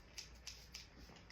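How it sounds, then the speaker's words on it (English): Scissors snip through a bag insert in four crisp, evenly spaced cuts, each a short bright click close by, with no talking. "I'm just gonna cut it in half now."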